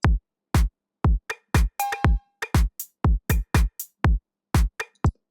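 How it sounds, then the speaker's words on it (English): An 808 Flex electronic drum kit plays a tech house groove: booming kicks on a steady beat, with claps, metallic hats and a short ringing hit woven between, dry and close with no speech. "I'm going to go for this sound here, the 808 Flex, just so you can hear the difference."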